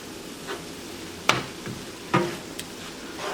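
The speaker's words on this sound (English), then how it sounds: "We have a nice little sizzling going." Vegan scrambled eggs simmer in a pan with a soft, continuous sizzle, broken by a few sharp clinks and taps of a utensil against the cookware.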